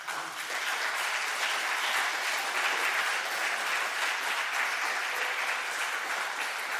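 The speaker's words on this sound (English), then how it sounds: "Let's receive a big applause." Steady, sustained applause from a conference audience at a closing session honouring sponsors, a broad even wash of clapping from a large room with no talking.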